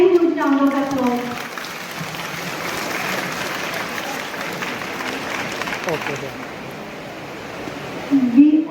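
Audience applause fills a college function hall, a steady broad wash of many hands clapping that holds throughout, with a louder burst near the end.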